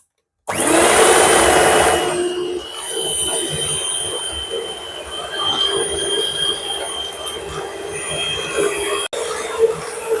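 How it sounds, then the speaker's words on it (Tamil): An electric mixer beats butter with 250 grams of sugar for a butter cake batter, whining loud and steady after a brief silent start, then dropping to a lower continuous drone with a momentary cut near the end. "இப்போ வந்து இதை நாங்கள் வடிவாக அடிச்செடுப்போம்"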